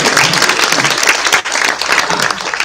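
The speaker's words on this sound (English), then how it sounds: "Can you guys clap?" A roomful of people clap loudly during a leadership session, a steady dense burst of applause with a brief dip midway before it swells again.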